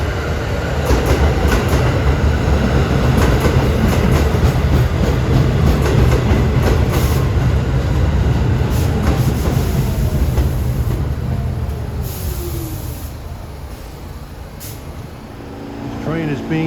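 A New York subway R46 train on the A line at Beach 44th rumbles loudly past with clattering wheels, then slows as brakes squeal and the sound eases, while someone talks.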